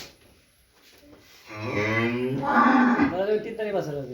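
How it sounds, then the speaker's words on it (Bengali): A pregnant cow lows on a farm, a loud, drawn-out moo rising after a quiet start and holding to the end, close by. "এটা গাভিন গরু"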